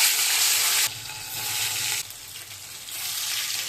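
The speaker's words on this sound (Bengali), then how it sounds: "এখন আমি যাচ্ছি মাছগুলো ভাজতে" Fish fries in a pan with a bright, crackling sizzle. The sizzle drops abruptly twice, then swells again, which sounds like the pan being shifted or the fish moved.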